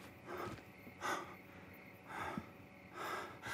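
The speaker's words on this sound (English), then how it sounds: "I heard his breathing all in my headphones. The goblin." A goblin breathing in the game Hogwarts Legacy, with about four slow, rhythmic, faint breaths, each a soft rasping rush of air.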